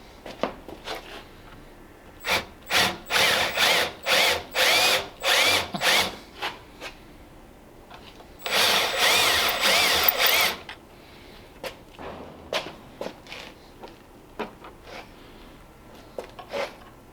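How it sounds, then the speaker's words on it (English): A power drill with a small chamfer bit works a hole in a welded pedal mount for a 1934 Ford Tudor sedan, giving a series of short, regular bursts, then one longer grind and a few faint clicks after. "So I'll take a little chamfer bit on both sides"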